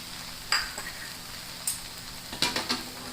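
A spoon stirs vegetable poha with pomegranate seeds and chopped coriander in a pan, giving a soft frying hiss broken by a few distinct scraping clinks against the metal, close and unaccompanied by speech.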